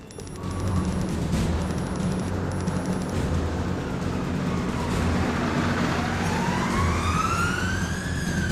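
An ambulance siren wails over steady traffic rumble, its pitch sweeping upward in long rising glides that grow more prominent toward the end.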